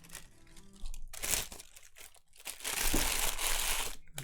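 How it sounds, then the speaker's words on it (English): A wrapper crinkles and crunches close by, with irregular bursts of crackling plastic rising into a sustained, loud crumpling toward the end. "Sorry about the crinkling."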